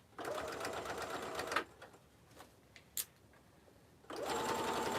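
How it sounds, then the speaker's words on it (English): A sewing machine stitches a belt bag with a smaller stitch, running in a steady loud burst, pausing through a stretch of quiet handling clicks, then starting again near the end. "a smaller stitch all the way around. I'm just going to do that."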